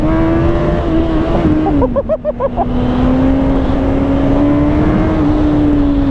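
A Kawasaki ZZR 1400 sport motorcycle of about 200 hp holds a loud, steady engine drone close by, with a brief choppy dip partway through before the drone picks back up and carries on.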